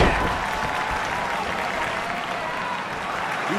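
Arena crowd in the wrestling game WWE 2K23 during a Great Sasuke versus Jushin Thunder Liger match, a loud, sustained burst of applause and cheering that fills the whole moment, dense and close without a pause.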